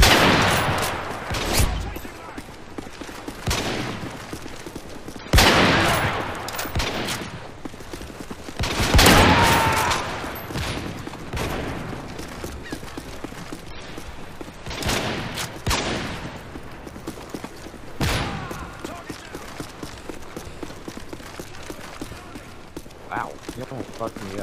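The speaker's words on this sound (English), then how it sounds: "Ben, don't be in the crossfire." Gunfire crossfire rattles on the Seatown map of a shooter video game, repeated bursts of automatic fire and single shots recurring in waves over roughly twenty seconds, close and loud, with players talking over it.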